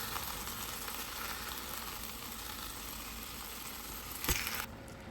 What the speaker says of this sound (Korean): 이렇게 수분도 빠져나와 지글지글하지요